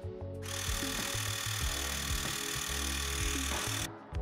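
A tiny portable air compressor pumps up fatbike tires, starting abruptly and running with a steady, loud buzzing rattle for about three and a half seconds before cutting off.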